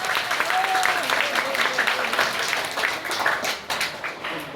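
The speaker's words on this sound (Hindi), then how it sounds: "जोरदार तालियों से स्वागत।" A school crowd at a high school prize-giving in a village breaks into sustained applause, a dense steady patter of many clapping hands that thins toward the end.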